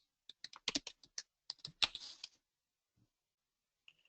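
Close computer keyboard typing: a quick burst of crisp key clicks for about two seconds, then quiet with a couple of faint taps near the end.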